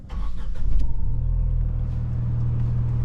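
Tata Altroz Racer engine starting and then idling, a rising rumble settling into a steady low hum heard close from outside the car, with no talk.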